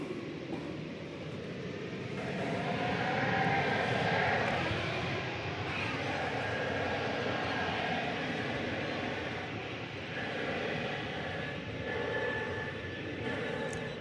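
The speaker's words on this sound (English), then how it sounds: "The Delta Airbus A220 off to Salt Lake City" A Delta Airbus A220 jet takes off at Dallas Fort Worth Airport, its engines giving a sustained rumbling roar that swells and then eases slightly, heard from a distance.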